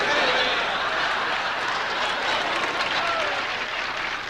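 A large audience bursts into sustained, loud applause, a dense continuous roar of clapping that holds steady throughout with scattered crowd murmurs.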